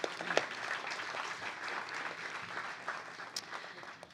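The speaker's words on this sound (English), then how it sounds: "so if we could give her a round of applause" Town hall audience applause in a community meeting room, a soft continuous patter of many hands clapping, distant and low in level, with a couple of louder individual claps near the start.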